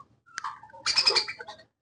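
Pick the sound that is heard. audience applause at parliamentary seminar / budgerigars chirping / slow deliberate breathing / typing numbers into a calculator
budgerigars chirping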